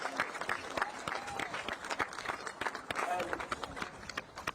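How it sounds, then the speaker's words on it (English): A crowd at a football championship final gives a round of applause, dense steady clapping from many hands nearby, with talk mixed in over the claps. "So can I just give a round of applause there for match officials and Cusick Park."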